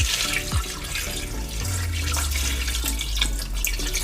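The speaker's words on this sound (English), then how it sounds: "So I'm going to be adding more water." Water poured from a tap into a pot of meat for Ayamashe (ofada green pepper) stew, a steady continuous gushing and splashing that runs loud and close throughout.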